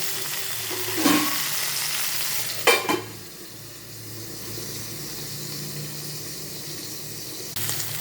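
Okra and potatoes fry in a pan with a steady soft sizzle, broken by two louder scraping stirs about a second apart early on, then a quieter stretch of hissing; no voices.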